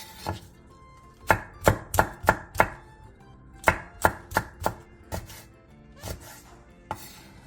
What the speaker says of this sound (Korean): 양파 2분의 1개를 채 썰어주세요. 대파 3분의 1개, 청양고추 1개, 홍고추 1개를 어슷썰게 해주세요.